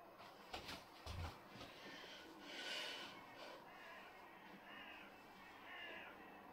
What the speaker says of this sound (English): crows going in the background.